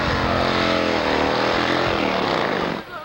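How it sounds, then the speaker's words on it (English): A single-speed drag bike with a two-stage clutch launches at a loud, sustained roar that rises as the clutch slips, then drops away abruptly as the bike pulls off the line. "You'll hear the clutch slip when the bike leaves the line."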